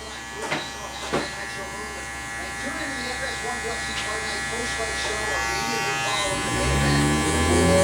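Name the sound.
electric hair clippers trimming a low taper haircut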